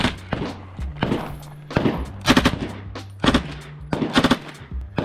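Rapid bursts from a World War II submachine gun at a shooting competition, fast-cycling fire in several short strings with brief gaps, loud and close, with echoing thumps between bursts.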